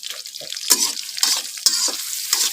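Garlic frying in a pan for a shrimp and water spinach dish is stirred with repeated scraping strokes over a bright, crackling sizzle, with short bursts separated by brief pauses and no talking.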